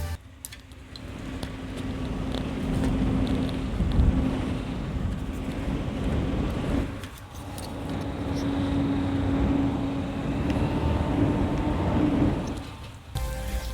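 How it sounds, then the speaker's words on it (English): A laptop cooling pad fan running close to the microphone, a steady whooshing hum with a faint tonal whine, broken briefly by a couple of handling bumps. "So now you will hear the noise of the fan"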